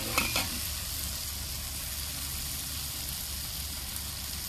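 Tomatoes and tender tamarind leaves drop into a pan of frying dried fish, giving a brief clatter and then a loud, steady sizzle that continues without a break.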